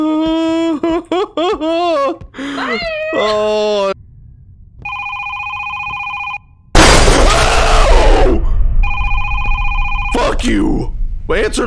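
A telephone rings in the horror video game Is Simon There?, with loud electronic ring bursts repeating between stretches of noisy crashing static, after a person talks and giggles excitedly at the start.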